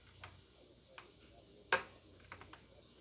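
A handful of soft computer mouse clicks, one sharper and louder snap near the middle among fainter ticks before and after, in a quiet room with no talking.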